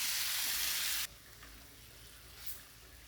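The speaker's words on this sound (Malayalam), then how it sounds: "നല്ല പോലെ എന്നിട്ട് ഇളക്കിയെടുക്കാം." Chicken pieces being stirred while frying in masala with diced potato for Kerala chicken varattiyathu; a loud, dense sizzle for the first second, then a much quieter frying hiss with faint scrapes.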